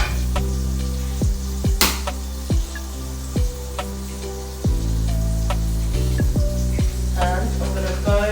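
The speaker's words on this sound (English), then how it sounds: "already put some butter in our pan, so you can go ahead and just add that egg." An egg fries in melted butter in a pan, crackling and sizzling close by with a steady bubbling hiss and scattered pops.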